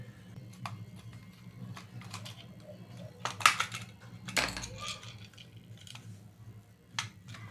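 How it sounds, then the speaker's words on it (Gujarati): A screw being loosened to open a radio: soft, close metallic clicks and scrapes at uneven intervals, with a few sharper ticks, over a low background hum. "સ્ક્રૂ ખોલી નાખશું।"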